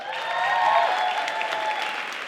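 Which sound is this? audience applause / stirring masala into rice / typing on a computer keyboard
audience applause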